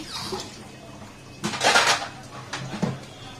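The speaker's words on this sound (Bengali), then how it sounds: "আমি এখন একটু প্লেটটা ধুয়ে দিতেছি" A plate is washed at a kitchen sink: short clattering bursts of crockery and cutlery scraping and knocking, the loudest flurry in the middle, with faint water behind and no talking.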